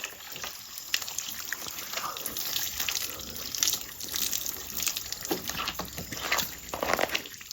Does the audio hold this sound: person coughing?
no